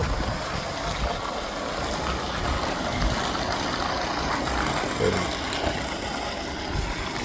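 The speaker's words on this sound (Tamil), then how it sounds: "சப்பு தண்ணி விழுந்துட்டு இருக்குது பாருங்கள்" Borewell water pouring steadily into a sump tank at a coconut grove, a continuous broadband rushing splash that holds even and unbroken throughout, with a faint low engine-like hum underneath.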